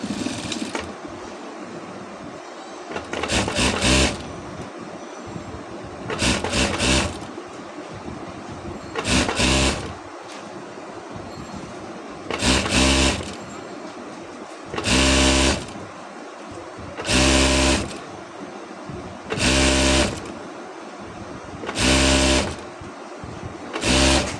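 A sewing machine runs in a series of short, regular bursts of rapid stitching, about eight in all, sewing thin seams along the long sides of a fabric cover for a biryani pot, with quieter handling sounds between the runs.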